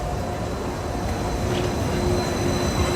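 The Disneyland monorail rolls past as a loud, steady rumbling roar with a faint whine, close by and continuous, no talking.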